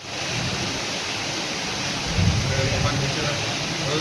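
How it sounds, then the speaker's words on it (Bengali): Heavy rain falls near a waterfall, making a dense, constant rushing roar. A voice is heard faintly beneath the downpour partway through. "প্রচণ্ড বৃষ্টি হচ্ছিল"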